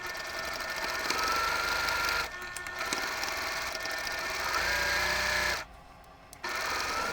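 A sewing machine stitches quilt blocks in quick, steady runs of rapid mechanical whirring, pausing briefly between seams, close and clear with no talking.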